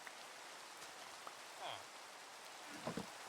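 Minecraft rain falls as a faint, steady hiss throughout, with a few soft, brief blips from the game rising briefly over it.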